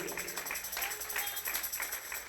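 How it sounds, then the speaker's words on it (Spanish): Congregation applauding during a Spanish-language church sermon, rhythmic group clapping in loose pulses over a faint tonal hum, moderately quiet and continuous. "Dele fuerte el aplauso al Señor"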